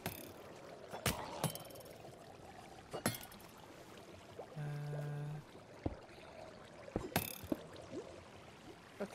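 Water leaking through a gate in a video game, heard as a faint trickling and pouring wash, broken by a few sharp clicks and a short humming tone partway through.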